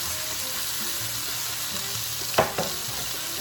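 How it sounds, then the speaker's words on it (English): Vegetables frying in a pan for Puerto Rican rice with salami, a steady broadband sizzle throughout with a couple of sharp utensil scrapes or stirs near the end, close and alone. "That I'm going to add all my veggies."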